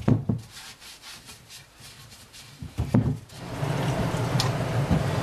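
Road bike rims scrubbed with a dual purpose sponge, giving close, steady rubbing and swishing strokes with a few knocks, building into continuous scrubbing toward the end, no voices.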